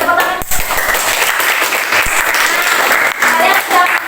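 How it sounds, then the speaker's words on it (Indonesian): A school classroom of pupils breaks into dense, sustained applause for several seconds, loud and continuous with a slight dip near the end, a teacher's voice faintly mixed in. "Ya, kita tepuk tangan."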